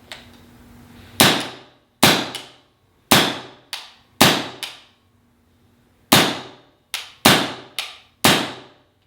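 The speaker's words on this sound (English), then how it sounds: "So I'm just going to fire it until I feel a malfunction happen." A 468 is fired over and over until it malfunctions, giving about ten sharp, loud, close snaps at an uneven pace, each ringing out quickly, with no voices.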